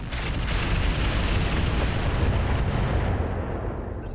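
Mech weapons fire in the video game RogueTech as a sustained heavy barrage, a loud continuous blasting roar that thins out near the end, no talk.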